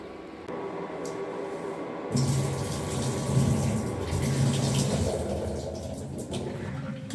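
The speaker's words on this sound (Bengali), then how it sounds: "এটাকে এবার একটুখানি কষলিয়ে এই জলটাও আমি ফেলে দেবো" Salted soaking water is tipped off washed cauliflower stalks, a steady gushing pour that swells louder partway through and runs for several seconds without talk.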